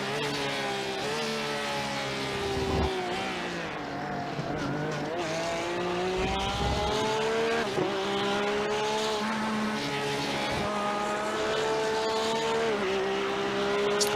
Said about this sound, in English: Listening to the sounds of the McLaren